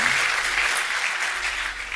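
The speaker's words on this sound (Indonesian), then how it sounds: "Tepuk tangan bagi Tuhan" Congregation applause during a church sermon, a brief steady wash of clapping from a full room with no voices over it.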